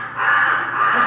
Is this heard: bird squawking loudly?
yes